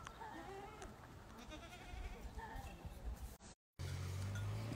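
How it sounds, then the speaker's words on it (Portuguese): Pregnant goats on a farm in the Brazilian backcountry, with faint bleats and soft livestock rustling at a distance, low in level, over light background voices, with a brief dropout near the end. "Nuvinhazinha de cabra já estão tudo buchudazinho"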